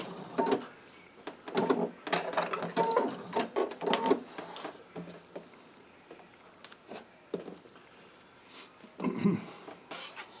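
A sewing machine runs in short stitching bursts while reinforcing elastic on a cloth face mask with a nose bar, the rapid rattling runs separated by pauses and lighter handling clicks, fairly close.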